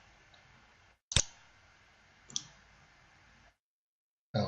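Computer mouse clicking during CAD work, two crisp separate clicks a little over a second apart against quiet background hiss.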